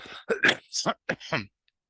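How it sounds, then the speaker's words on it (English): A few rough coughs and throat-clearing bursts come in quick succession, close and fairly loud, then stop. "Excuse my cough."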